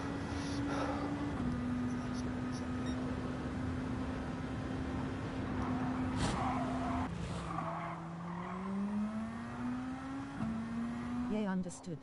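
Race cars lap Suzuka GP circuit in Gran Turismo 7, a steady droning engine note shifting pitch with gear changes and brief tyre squeal, continuous and close, from a 90-minute endurance race.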